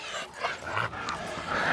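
Pitbull dogs yip and whimper in short bursts, fairly close, with brief sharp barks and no talking.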